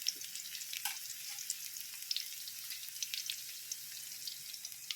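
Garlic, ginger and onion sauté in hot oil for chicken tinola, giving a faint, steady sizzle with scattered crackles and pops close by and no talking.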